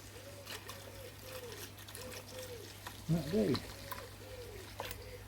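Pond water pours from a full watering can in a soft, steady trickle, with a brief louder splash midway and a person speaking briefly over it.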